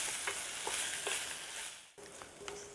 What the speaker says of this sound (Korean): 살짝 익을 정도로만 볶아주세요